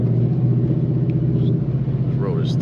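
A modded S550 Mustang GT cruises over a rough road, its exhaust giving a steady, close low rumble throughout with slight bumps and no clear revving.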